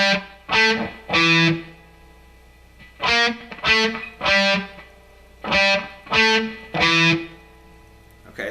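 Distorted electric guitar plays the second guitar part of a song in three short bursts of quick picked notes, separated by pauses, up close with no voice.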